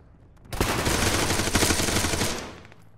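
A sustained burst of automatic rifle fire in the Arma military video game, about two seconds of rapid close shots emptying half a magazine, loud and dense with no talking.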